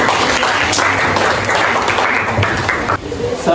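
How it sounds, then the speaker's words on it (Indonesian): Loud applause from schoolchildren for a classmate who has just read the Quran, dense close clapping that fills the room for a few seconds without pause. "Berikan tepuk tangan kepada teman kalian yang sudah membaca."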